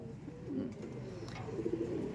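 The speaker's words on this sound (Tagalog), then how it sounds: "Ayan ang mga ibon natin mga Abel" Pigeons coo softly nearby in low, murmuring calls, quiet and continuous against a faint background.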